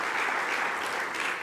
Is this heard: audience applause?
yes